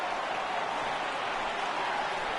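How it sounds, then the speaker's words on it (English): A broad, steady stadium crowd murmur from the baseball video game MLB The Show 18 fills a large space, a continuous wash of distant voices with no single speaker standing out. "I can hear the crowd murmuring now"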